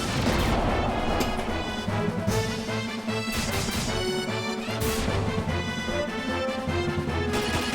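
Furion's sword strike in Final Fantasy II hits as a burst of heavy, explosive crashing impacts over dense, ringing game music. The barrage stays loud and continuous with no talk.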